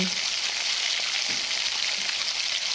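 Pumpkin pieces frying in a pan with turmeric and salt, a steady close hiss of sizzling oil with faint stirring, no talk.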